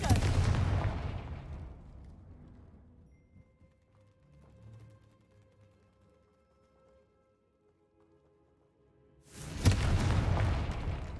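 A Confringo fire spell from Hogwarts Legacy bursts in a loud booming explosion that fades out over several seconds, followed by a quiet game ambience and then a second sharp blast near the end.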